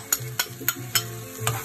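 Onion frying in a pan for a pizza sauce sizzles steadily, while a utensil stirs and taps against the pan in sharp, regular strokes, close and alone.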